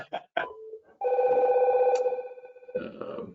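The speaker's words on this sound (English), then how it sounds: "I've got office phone ringing, cell phone ringing." An office phone rings with a loud, steady electronic trill lasting a couple of seconds, preceded and followed by brief voices and shorter ringing bursts from a cell phone nearby.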